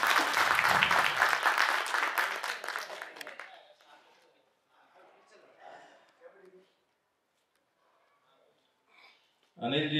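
An audience at a community welcome event for chief guests claps loudly for a few seconds, then the applause fades away into near quiet with scattered faint sounds, before a sudden loud burst at the end.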